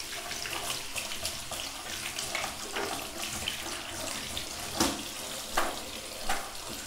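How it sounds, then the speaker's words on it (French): Tap water runs steadily into a sink while a face is rinsed under the stream, a close broadband splashing wash with a few sharper splashes near the end, during an evening skincare routine. "Là par contre, je plonge sous l'eau"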